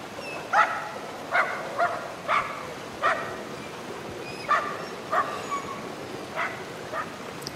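Dog barking in the video game Somerville: a run of about ten short, sharp barks and yips in an uneven rhythm, moderately loud over a quiet background, with no talking.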